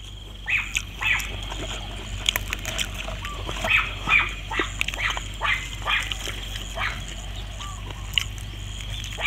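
At a rural Thai home, geese give a run of loud, nasal honks in uneven bursts, fairly close, over a steady background hum with faint outdoor noise.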